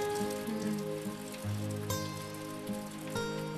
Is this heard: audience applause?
no